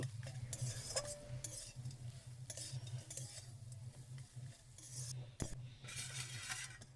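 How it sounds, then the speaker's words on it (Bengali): Spoon stirring and mixing a spiced potato filling in a pan, with repeated scraping strokes and light sizzling throughout, plus a few sharp clinks of utensil against metal, close and steady. "এবার সব কিছু দিয়ে আমি ভালো করে একসাথে এটাকে মিশিয়ে একটু নাড়াচাড়া করে নেব"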